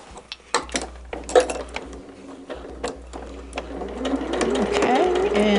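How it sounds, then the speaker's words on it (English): Sewing machine stitching a fabric border, starting with a few short bursts and clicks, then settling into a closer, steady rapid hum of stitching. "I'm going to give it a little lock stitch there at the end."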